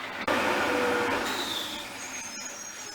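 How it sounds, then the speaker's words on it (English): A garbage truck idles outside with a steady, broad diesel rumble that stays fairly loud and even throughout, with no voices over it. "the garbage truck won't go away."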